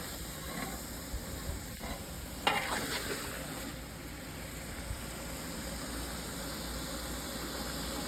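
Pork sirloin frying in leftover sausage grease for jambalaya, a steady broad sizzle filling the pan throughout with a few brief stirring clatters, no talking.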